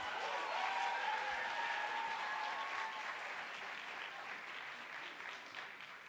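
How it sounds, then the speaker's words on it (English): Audience applause for a poet at a youth poetry slam final on a performance stage: steady, dense clapping from a sizable crowd that fades slightly toward the end. "Let's clap it up for the poet"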